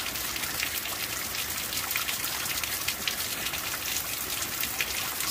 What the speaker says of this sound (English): A very rainy day. This is what's currently going on outside my door.